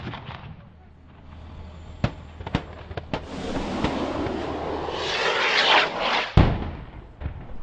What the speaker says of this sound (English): A rocket strike was then called in to take out what was believed to be the ISIS fighters' positions.